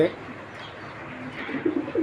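Racing pigeons at a large breeding farm coo softly in a few low bursts, growing a little louder toward the end over a steady background.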